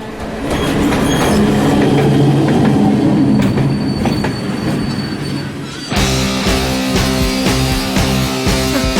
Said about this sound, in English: Next train also came.